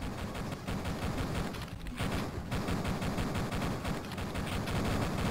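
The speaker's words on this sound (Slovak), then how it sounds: "Dobre to strieľa na to, že to je stará hra" Weapons fire in a Duke Nukem 3D multiplayer match against bots comes as dense, rapid bursts of shots, sustained and loud with brief pauses, and no one speaks over it.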